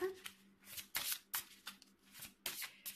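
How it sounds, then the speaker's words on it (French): Tarot cards being shuffled by hand, a quiet close series of soft riffling slaps and flutters in an uneven rhythm, with no speech. "Je vais mélanger les cartes avec le premier signe, donc les Sagittaires."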